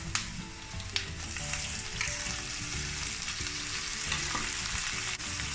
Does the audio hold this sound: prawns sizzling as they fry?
yes